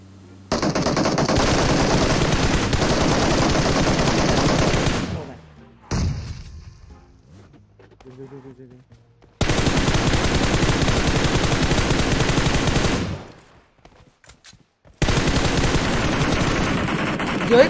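Loud bursts of sustained automatic gunfire in PUBG Mobile rattle on in long stretches separated by short quiet gaps, with players talking over the shooting.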